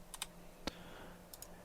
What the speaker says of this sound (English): press T on the keyboard for trim